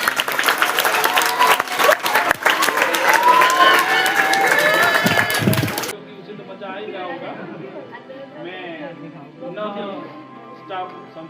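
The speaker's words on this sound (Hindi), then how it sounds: "तालियां बजाओ" An audience at a staff farewell gathering claps loudly for about six seconds with chatter mixed in, then the applause cuts off and a single voice speaks over a quieter room.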